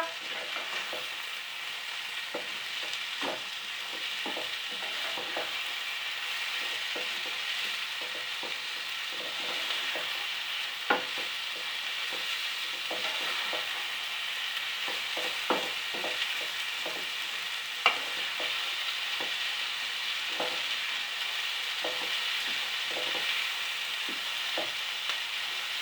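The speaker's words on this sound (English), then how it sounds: "when you fry onions, it becomes brown" Onions fry in a pan as they brown, making a steady, close sizzle with small crackles and the odd stirring scrape throughout, and no voice over it.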